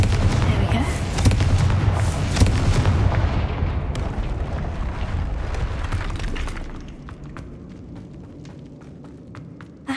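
Fiery Confringo spell blasts in Hogwarts Legacy, a run of loud booming explosions with crackling bursts over the first several seconds, then a quieter rumbling tail as the combat noise fades.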